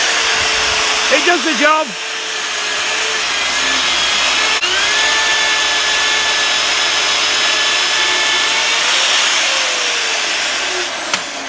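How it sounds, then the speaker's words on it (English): An Evolution magnetic drill bores a 26 mm hole in steel, with a loud, continuous motor whine that holds steady for several seconds after a brief start-up and shifts pitch near the end. Someone speaks briefly over it. "So this is the Evolution drill. It's a bit noisy"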